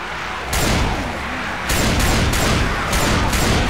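Dense, loud gunfire in Left 4 Dead, heavy overlapping shots and booming bursts in rapid succession with sharp repeated blasts throughout, no voices.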